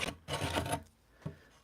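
Rough scraping of old material off a wooden guitar neck blank, two rasping strokes, the second longer, followed by a short scrape, close and fairly quiet.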